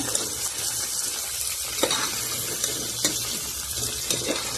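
Potato pieces for a vegetable biryani fry in hot oil in a pressure cooker, a steady hissing sizzle with occasional soft stirring clicks, close and continuous, with no voices.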